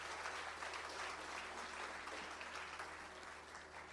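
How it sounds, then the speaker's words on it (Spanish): A church congregation applauds together in a sustained, dense round of clapping, steady and even throughout, heard from within the room with no break. "Démosle un fuerte, pero un fuerte aplauso al Señor."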